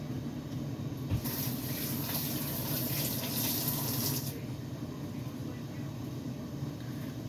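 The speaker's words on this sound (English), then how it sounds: "gonna wash my hands." Tap water runs into a kitchen sink for handwashing, a broad hissing rush that starts about a second in, holds steady for three seconds, then cuts off, leaving low background hum.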